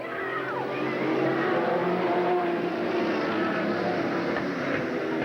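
Race cars roar away together at the green flag start at Eugene Speedway in 1987, a dense, steady wash of engine noise heard from a distance without any talking.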